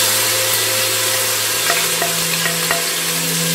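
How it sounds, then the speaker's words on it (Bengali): Ginger garlic paste sizzles steadily in a hot saucepan, a continuous bright frying hiss with a low steady hum beneath and a few soft stirring knocks near the end; no one speaks. "আমি আদা রসুনের পেস্ট দিব"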